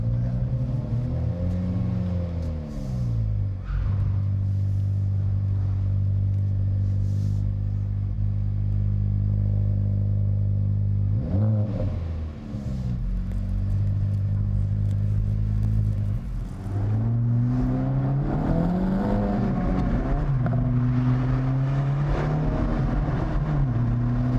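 A 2024 Acura Integra Type S engine revs in Sport Plus mode, close and loud, with a steady idle drone broken by several rising and falling rev sweeps, the later blips sharp and repeated.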